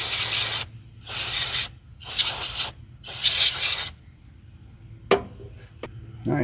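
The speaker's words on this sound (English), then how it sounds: "Then we'll give it a spray." Four short hissing bursts of cleaner sprayed onto the carburetor of a 25-year-old Craftsman LT1000 riding mower in a steady rhythm, followed by a few faint clicks and knocks.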